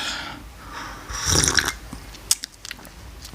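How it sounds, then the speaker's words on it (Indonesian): Someone noisily slurps a cup of Arabica coffee: a short, breathy sip in the middle, then a few small mouth clicks and smacks. The sound is close-up and quiet, with no talking. "kita seruput kopinya dulu"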